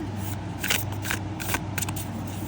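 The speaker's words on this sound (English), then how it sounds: "Let's go ahead and shuffle this new one." A thick new tarot deck is shuffled up close in a few quick, crisp bursts of flicking and sliding, with short pauses between them.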